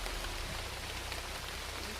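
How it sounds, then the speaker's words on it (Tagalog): Heavy rain pours down in a dense, steady hiss with constant drumming on surfaces, close and loud throughout. "Lakas ng ulan"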